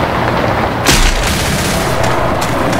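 Single loud pistol shot in Left 4 Dead 2, a sharp close crack near the start over constant background noise, with fainter reports afterward.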